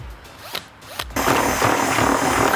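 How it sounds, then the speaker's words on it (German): A power drill used on a Bobbycar ride-on toy. A few brief whirring bursts come first, then the drill runs steadily and loudly up close through the second half, with no talking. "So, wir haben problemlos mit der Bohrmaschine diese Stange hier dazwischen gekriegt."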